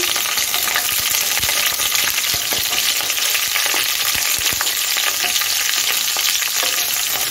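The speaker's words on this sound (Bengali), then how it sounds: "এখন আমি সবজিগুলি ভেজে নেব। তার জন্য আমি ফুলকপিটা দিয়ে দিচ্ছি।" Cauliflower and mixed vegetables fry in oil in a pan, a steady loud sizzle running throughout with scattered clicks and scrapes of stirring.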